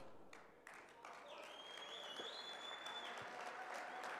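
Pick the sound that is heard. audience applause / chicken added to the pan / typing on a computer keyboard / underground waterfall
audience applause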